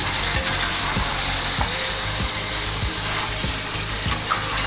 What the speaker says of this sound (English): Mix the mutton well. Keep the flame in medium high.